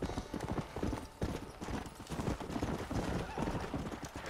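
Horse hooves clip-clop in a rapid, uneven rhythm along a road in the Red Dead Redemption video game, moderately loud, with soft voices murmuring underneath.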